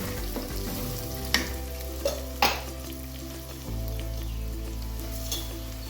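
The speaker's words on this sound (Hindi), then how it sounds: "चलिए, प्याज अच्छे से फ्राई हो गया है।" Onions frying in a clay pot for mutton curry give a steady, dense sizzle throughout, broken by a few sharp clinks and scrapes of stirring, close and without speech.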